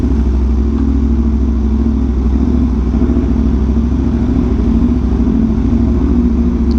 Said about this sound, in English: Oh, this bike is loud.